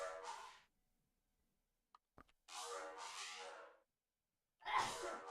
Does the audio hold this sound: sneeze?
yes